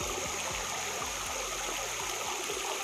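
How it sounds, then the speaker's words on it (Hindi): A mountain stream flows below among wildflowers, a steady close rush of water with broad constant hiss and no breaks, while a low repeating mechanical thump sits faintly underneath. "तो भाई लोग देख लो नीचे पानी बह रहा है"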